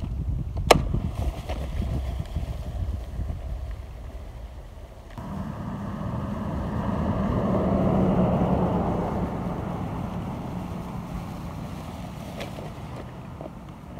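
A Scotts broadcast spreader with its edge guard on, set to four, casts grass seed across a home lawn, starting partway in with a steady close whirring rattle over wind-buffeted outdoor noise.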